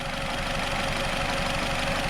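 A 2008 Nissan Rogue engine idles with a slight misfire, giving a steady, close, continuous rumble with an uneven knocking texture throughout and no talking.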